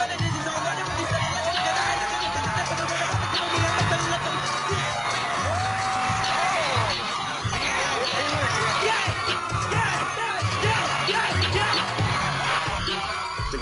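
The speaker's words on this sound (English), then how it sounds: "The crowd was going crazy." A crowd at a live performance roars and yells continuously at full volume, with whoops and shouts rising over the dense wall of noise throughout.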